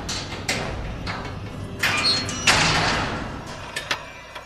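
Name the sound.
cage door being closed and locked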